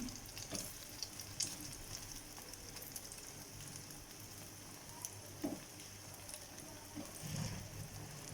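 Egg omelette frying in a pan, giving a steady, soft sizzle with faint crackles throughout, quiet and close with no talk.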